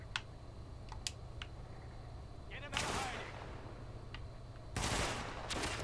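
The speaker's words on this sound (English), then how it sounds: "I'm gonna say that they're just shooting each other" Scattered gunfire in the shooter game The Division: a few sharp distant cracks, then two louder bursts of rapid shots, over a steady low hum.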